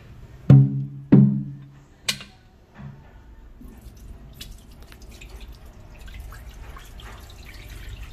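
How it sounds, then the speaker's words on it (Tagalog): Glutinous rice being washed in water: two loud splashy sloshes close together, a sharper clack, then softer dripping and quiet swishing of grains and water. "Hugasan muna natin ng mabuti ang ating glutinous rice bago natin isaing."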